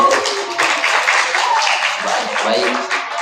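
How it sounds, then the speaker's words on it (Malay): An audience claps for a contestant's attempt at a school Quran memorisation competition, a short burst of steady applause with scattered voices mixed in. "berikan tepukan untuk percubaan"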